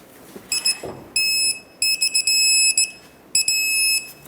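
An electronic torque wrench signals that 66 foot-pounds has been reached on a castle nut while a pitman arm is installed on a Ford E-350 van. It gives several bursts of loud, steady high-pitched beeping, separated by short pauses.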